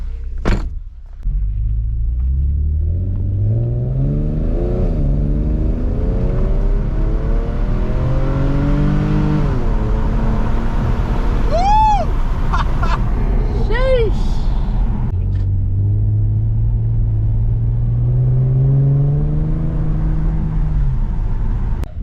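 A Nissan 370GT fitted with an Invidia Gemini exhaust idles with a deep, loud rumble, then rises through several revs before settling back; people talk over the engine throughout.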